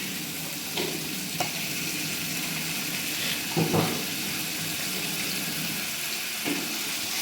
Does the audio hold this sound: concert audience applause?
no